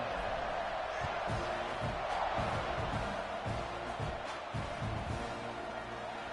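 A stadium crowd in a college football video game roars steadily at kickoff, a dense, continuous wash of cheering with rhythmic thumps beneath, and a commentator's voice is partly audible over it.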